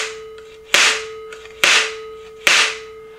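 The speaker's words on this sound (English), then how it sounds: "That's a slapstick." Homemade wooden slapstick made from a piece of wood with a spring hinge, snapping shut three times in a steady rhythm, each crack sharp, loud and close, with a faint background hum and no talking.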